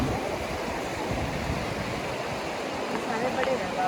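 Fast-flowing rainy-season water rushing in a steady, broad roar close by that fills the whole clip without a break, with no clear speech heard over it.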